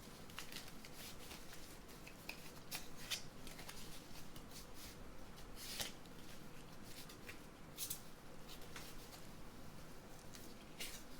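Quiet, steady riffling and shuffling of a deck of tarot cards, with soft flicks continuing throughout.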